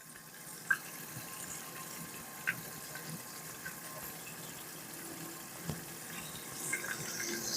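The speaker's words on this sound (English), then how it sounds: "I'm going to go wash my hands" Water runs from a tap while hands are washed in a kitchen during a catfish fry, a faint, continuous trickle broken by a few small clicks and knocks of dishes or the sink.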